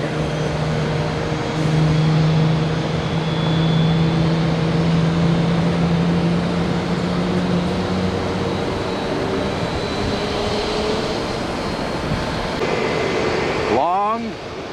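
A Bombardier jet rolls on the runway at Tampa International Airport, a loud sustained engine roar and whine that swells and holds, with a brief rising tonal sweep near the end.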